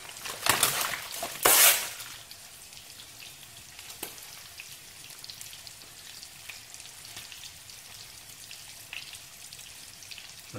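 Chicken livers sizzle in a hot pan, with a couple of louder spitting crackles at first as they go in, then a steady, fairly quiet frying hiss.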